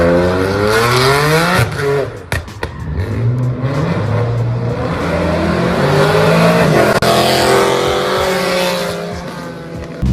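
Car drifting around a street corner at a car meet and spinning a full donut, engine revving hard and wavering in pitch with tire noise over a continuous loud roar, a brief sharp break midway.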